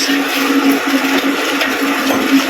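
A concrete mixer churns cement, sand and gravel for pouring a kitchen post, producing a close, steady whirring roll with a constant hum and no voices.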